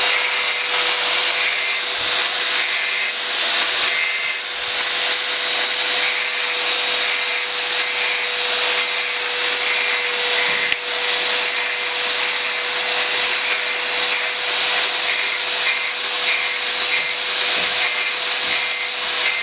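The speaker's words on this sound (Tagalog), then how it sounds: "kinaskasan siya kasi naka-powder coat yan, hindi tatalaban ng welding" A tool scrapes and grinds powder coat off a steel crash guard bracket on a Honda motorcycle, a steady abrasive rasping hiss with a constant high whine, continuous and close throughout.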